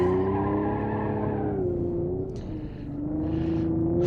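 Tires spin and skid on an Ibishu Hopper XT-6 in BeamNG.drive, a loud, sustained squealing howl over the engine note that dips briefly in the middle before rising again.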